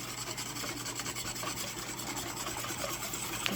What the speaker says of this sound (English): We're going to slowly whisk in the pudding.